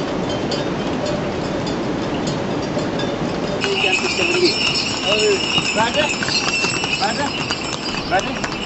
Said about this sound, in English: The route was so familiar to the horses that they were just going by themselves even without any guidance.